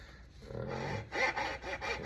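A hand saw cutting the end of a Gibson F-12 mandolin's fingerboard, wood shielded by leather, giving a few close rasping back-and-forth strokes.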